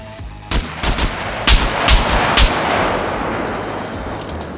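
Gunfire in the SCUM video game rings out as a rapid run of loud, close shots in two quick clusters, followed by a lingering echoing tail of reverberation.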